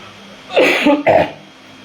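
A single harsh cough in two quick bursts, close and loud, from a speaker during a religious lecture, with no talking around it.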